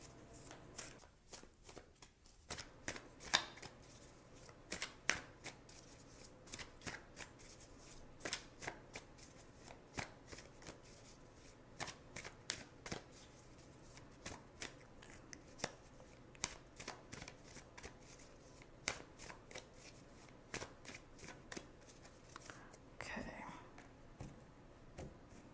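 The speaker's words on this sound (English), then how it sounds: "Give them a few more shuffles." Tarot cards are shuffled repeatedly at close range, quiet rhythmic riffling and snapping bursts recurring every second or so against a soft, hushed background.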